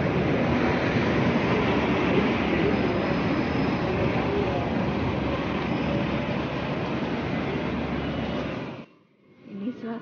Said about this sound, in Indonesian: Ini suasana di dalam kereta api Taiwan Ho.